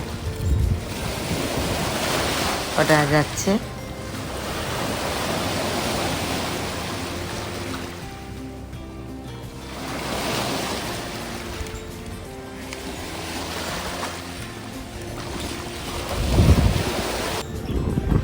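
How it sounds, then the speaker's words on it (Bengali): Strong wind blows at Niagara-on-the-Lake by the lakeshore, a steady broadband roar of gusts buffeting the microphone that swells and eases throughout, with a brief voice over it. "প্রচণ্ড হাওয়া"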